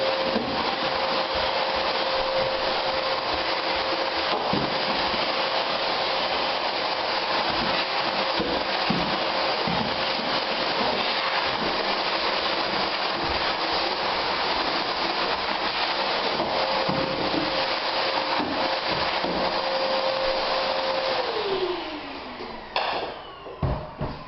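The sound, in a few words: vacuum cleaner running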